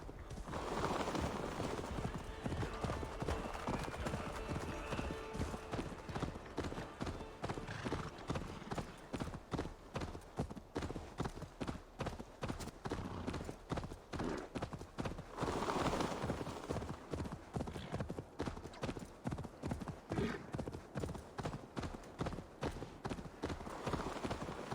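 Horse hooves clip-clop in a quick, steady galloping rhythm in the video game Assassin's Creed Valhalla, loud and continuous for the whole stretch with no voices.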